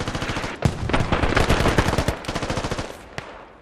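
Rapid automatic gunfire from the video game Squad, a dense stream of close, loud shots with a few sharper cracks, running continuously for several seconds before tapering off.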